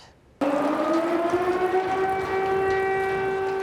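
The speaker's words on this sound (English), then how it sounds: "Air raid sirens in Uman." A loud air raid siren in Uman, Ukraine starts abruptly and holds a rising, wailing tone, sustained and alone.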